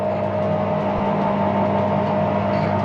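An Edgwick lathe runs with its threading wheel engaging, a steady, loud mechanical hum with a constant tonal whine and no talk.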